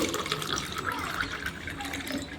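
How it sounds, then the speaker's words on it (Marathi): Water splashes and gurgles as it is poured into a glass with sugar for kokum sherbet, a steady close pour lasting a couple of seconds. "थोडंसं पाणी टाकणार आहे"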